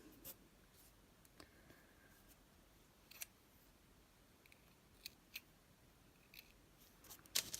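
Scissors cutting a piece for a handmade looped flower craft: faint, close snips and clicks scattered irregularly over a quiet room, with soft rustling between cuts.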